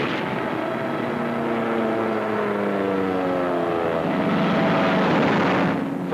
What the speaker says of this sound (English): Whenever the fields were dry enough, our planes took off to tackle the Luftwaffe.